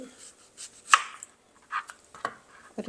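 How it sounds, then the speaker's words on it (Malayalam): Capsicum being cut into small squares on a board, a few isolated close knife taps spread sparsely, one louder chop standing out among softer strokes. "ക്യാപ്സിക്കമൊക്കെ ഇങ്ങനെ ഒരു ചെറിയ സ്ക്വയറായിട്ട്"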